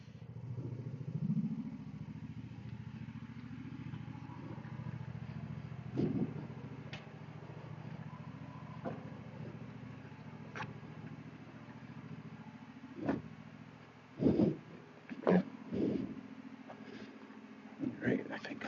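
A lawn mower engine runs at low throttle in a steady, rumbling idle, with several louder clunks and clatters near the end; someone talks over it at times.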